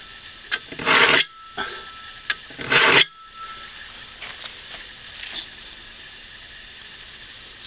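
Axe blade being sharpened with a Block Sharpener: two loud rasping strokes, each about a second long, then faint scattered scrapes and ticks in a quiet room.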